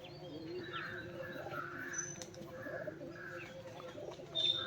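White pigeons kept at a house coo and chirp softly at close range, with faint background voices and a slight rise in activity near the end.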